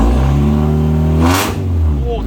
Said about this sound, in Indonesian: Suara knalpotnya menggelegar.